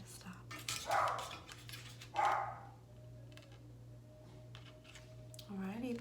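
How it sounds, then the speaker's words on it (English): A dog barks a couple of times at a distance, short sharp bursts over a steady low hum, with a quiet voice speaking softly nearby. "The dog's barking."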